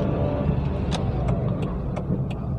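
A car idles and pulls away with a steady low engine rumble, close and continuous, with a few faint clicks and knocks from inside the cabin as the clutch pedal is worked.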